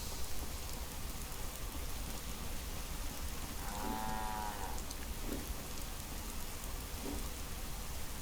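A single cow in Fallout: London lets out one drawn-out moo in the middle, heard over a constant rain-like hiss of the game's ambience.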